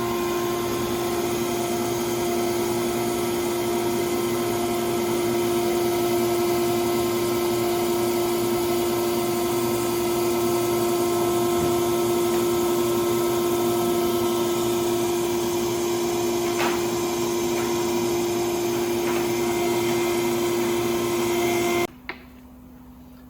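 An eyeglass lens edging machine cuts lenses with a loud, steady mechanical whine and hum that runs unbroken for a long stretch, then stops abruptly near the end.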